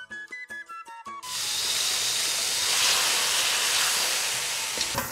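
A few plucked musical notes, then a sudden loud, sustained hiss of water hitting a hot pan of kheema with garam masala, steaming and sizzling steadily until the end.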